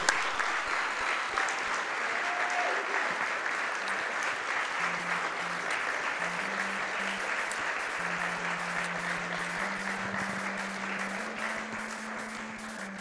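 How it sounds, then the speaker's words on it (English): Steady crowd applause at a Summer Games Done Quick speedrun event, dense clapping holding at an even level for over ten seconds, with a low tone droning underneath. "One more round of applause."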